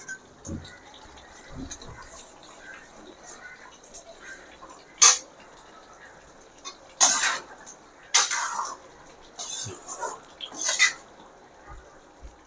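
The lid comes off a pot of simmering Chettinad brinjal mandi with a few sharp metallic clinks and scrapes, spread over a quiet kitchen with soft handling noises in between.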